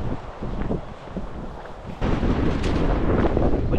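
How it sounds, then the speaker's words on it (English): Gusty wind buffets an outdoor roof worksite with scaffolding, a steady rushing roar that swells louder and rougher partway through, close to the microphone with no talk. "Windy today."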